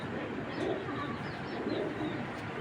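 A grizzle female racing pigeon from a foreign bloodline coos twice in low, soft, rolling phrases, close by, against a steady background hum.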